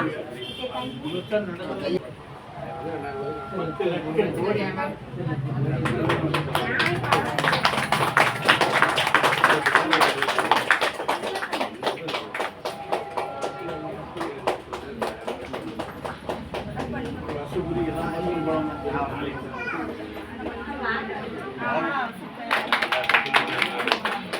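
A small crowd claps to open a shop, with quick, sharp applause swelling in the middle and repeated bursts later, mixed with people talking and crowd chatter throughout.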